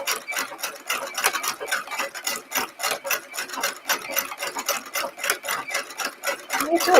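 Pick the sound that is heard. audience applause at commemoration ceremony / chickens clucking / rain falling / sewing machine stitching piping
sewing machine stitching piping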